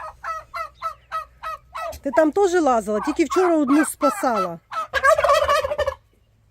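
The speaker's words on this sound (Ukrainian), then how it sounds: "Так, це наші індики." Turkeys gobble in rapid repeated bursts, loud and close, while someone talks over them.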